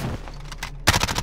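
Gunfire in Call of Duty: Modern Warfare, with a faint distant rattle followed by a sudden loud close burst of rapid shots.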